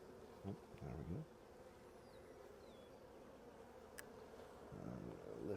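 Bees buzzing around a swarm trap: a faint, steady hum of many insects, distant and low, with a few louder passes of individual bees.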